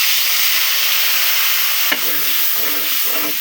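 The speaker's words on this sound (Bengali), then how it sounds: "তেলটা যেহেতু গরম আছে আমি মশলাগুলো ভেজে" Spices fry in hot oil with a loud, steady sizzle and hiss up close, interrupted once by a brief clatter followed by a slightly changed, bubbling crackle.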